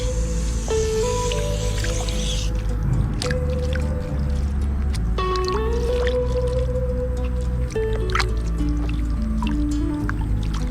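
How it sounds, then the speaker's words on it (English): Freshly dug garden potatoes being washed in water, with continuous sloshing, squishing and dripping close by, steady and fairly loud, with a few brief thuds of handling. "So we're gonna wash this potato"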